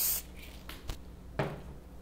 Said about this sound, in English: spray the roots with a little bit of hairspray